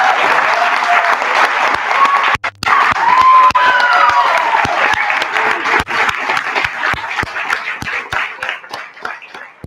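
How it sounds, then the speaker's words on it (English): An audience at a Christian writers awards event breaks into warm, sustained applause mixed with a few cheers, loud and full, gradually thinning to scattered claps. "if we could all give Linda a round of applause"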